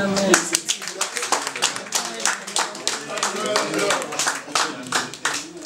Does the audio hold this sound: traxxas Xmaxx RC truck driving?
no